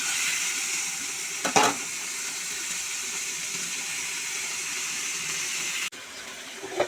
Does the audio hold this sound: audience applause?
no